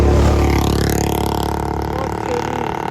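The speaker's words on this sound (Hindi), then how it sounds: "हमारी प्यारी सी बाइक अभी टॉप गियर में चल रही है" A motorcycle cruising in top gear on a wet road: a steady, continuous engine drone with a slight rise in pitch, heard close with wind and road noise and no talking.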